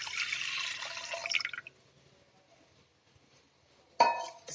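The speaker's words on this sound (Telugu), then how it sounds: "ఈ వాటర్ని మళ్ళీ కుక్కర్లో పోసుకోండి." Strained barley water poured into a pressure cooker for a weight-loss soup, a close trickling splash with light clinks that stops, then a short burst of pouring near the end.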